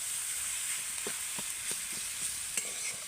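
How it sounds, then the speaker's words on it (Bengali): Potato and cauliflower filling for cauliflower chops sizzles in a pan, a steady close hiss broken by several sharp scraping strokes as it is stirred; no talking. "এবার খুব ভালো করে নেড়ে চেড়ে পুরটা তৈরি করে নেব।"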